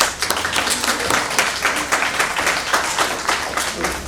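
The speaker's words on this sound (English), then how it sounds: "Please help me give them a hand of applause." A conference audience gives a sustained round of applause, many hands clapping in a lively, steady rhythm that carries at full strength throughout, with no voices rising above it.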